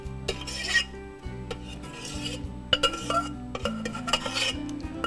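Rice and vegetable stuffing for Turkish dolma being stirred and handled in a pot, with a run of clinks, scrapes and utensil knocks against metal, close and fairly quiet.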